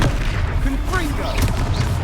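A Confringo fire spell explosion in Hogwarts Legacy, a loud low booming rumble sustained across the moment, mixed with game sound and a voice in the background.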